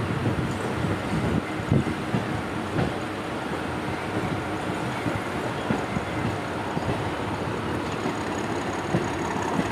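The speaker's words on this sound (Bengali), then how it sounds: "হাওড়া নিউ দিল্লি রাজধানী এক্সপ্রেস, যেটি ইয়ার্ড থেকে হাওড়া স্টেশনে যাচ্ছে" The Howrah–New Delhi Rajdhani Express rolling out of the yard toward Howrah station, a continuous rumbling clatter of wheels and cars heard steadily under heavy wind noise on the microphone.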